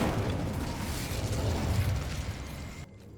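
In Hogwarts Legacy, an Incendio fire spell roars as a sustained, crackling blast. It holds loud for almost three seconds before cutting off abruptly into quiet.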